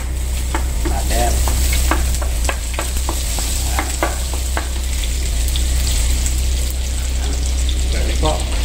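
Fried rice ingredients frying in garlic, butter and a little oil, with a constant bright sizzle under repeated clinks and scrapes of a spatula stirring the pan, close and fairly loud.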